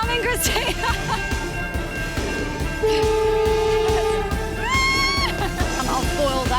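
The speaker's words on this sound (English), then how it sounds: "The train's coming, Christina." A train rolls past an outdoor cooking challenge with a long sustained horn blast, wheel clatter and rumble, while people shout and talk excitedly over it.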